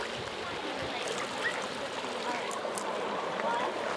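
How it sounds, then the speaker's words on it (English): A Grayl water filter bottle being dipped into a stream to fill, with a steady rushing and trickling of water close by, continuous and fairly loud with small splashy accents. "So Brandon, dip some water"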